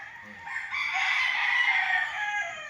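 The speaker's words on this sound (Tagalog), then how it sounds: "dito pala nagtitrain sila ng mga manok" A single rooster on a game farm with a small cockpit crows once in a long, drawn-out call, clear but somewhat distant, with no voices.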